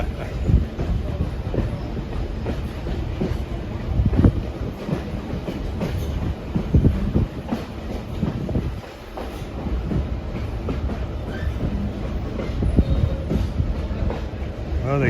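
A train hauled by General Motors F-unit diesel locomotives rumbles steadily along the rails through the Lehigh Gorge, with rhythmic clattering wheels, loud and continuous throughout, its roar swelling and dipping slightly as it passes.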